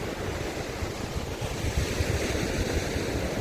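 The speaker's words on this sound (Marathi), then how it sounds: "हा बघा समुद्र, देवगड समुद्र किनारा." Sea waves breaking on Devgad beach along the Arabian Sea, a steady close-up wash of surf with wind buffeting the microphone throughout, loud and continuous with no talking.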